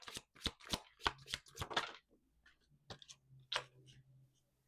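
Tarot cards are shuffled in a quick run of crisp riffling slaps, followed by softer sparse flicks as a card is drawn, close and quiet with no talking.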